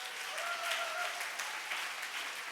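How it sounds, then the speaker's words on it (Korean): A church congregation at a Friday worship service claps together in steady, sustained applause that fills the room at moderate loudness, with no voices heard over it. "박수 한번 쳐주시기 바랍니다"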